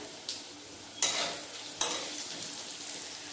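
Potatoes frying in a pan with salt, green chillies and a little turmeric, a steady close sizzle with several sharp bursts of hissing as they are stirred, no voices.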